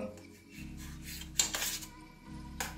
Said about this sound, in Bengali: একটু ছোট ছোট করে কাটছি